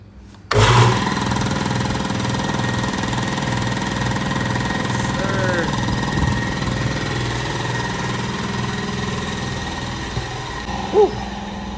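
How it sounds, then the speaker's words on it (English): An air compressor starts up abruptly and keeps running steadily close by with a loud, even motor drone and pulsing hum, a brief knock near the end. "and then turn back on your air compressor."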